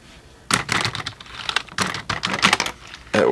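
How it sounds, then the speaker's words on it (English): Typing on an Amiga 1200 computer keyboard, close and clear, with irregular bursts of clacking keystrokes separated by short pauses. "Keyboard test."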